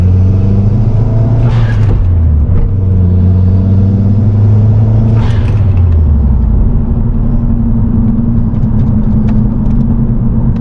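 A Mazdaspeed3 with a grinding manual transmission drives along under a loud, continuous engine rumble, revs rising and dropping through gear changes, heard from inside the car.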